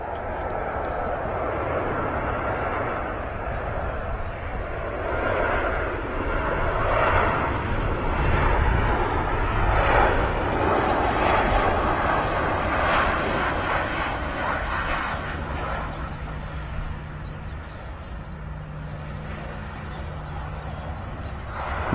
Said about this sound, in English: Ryanair 737-800 series aircraft. Arriving here at Manchester Airport.